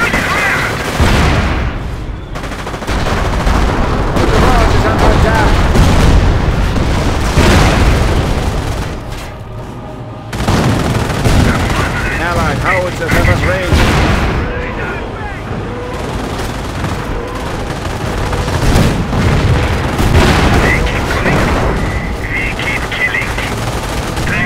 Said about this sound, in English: got incoming mortar fire